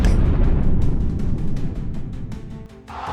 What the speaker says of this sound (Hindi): धमाका इतना जबरदस्त था कि आग और धुएं से पूरा इलाका भर गया